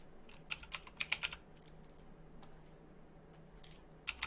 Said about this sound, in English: So I can type